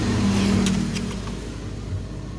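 A Yamaha Jupiter MX motorcycle engine running with the clutch pulled in, a steady close idle hum that eases slightly after the first second, with no talking.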